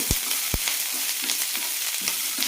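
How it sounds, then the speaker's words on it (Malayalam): Onion, green peas and chopped carrot are sautéed in a pan with a steady, close hiss of frying, broken by a few soft knocks and scrapes of a spatula. "സവാള ഒന്ന് വഴറ്റിയതിന് ശേഷം ഇതിലേക്ക് പച്ചപ്പട്ടാണിയും ക്യാരറ്റ് അരിഞ്ഞതും ഇടാം"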